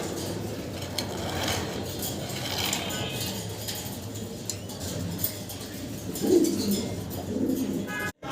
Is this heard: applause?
no